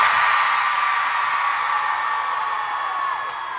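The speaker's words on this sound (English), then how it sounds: "that's by a long way the best crew chant" Concert crowd at the House of Blues in Boston cheering and whooping for the touring crew at a show, a loud, sustained wall of shouting voices that fades slightly toward the end.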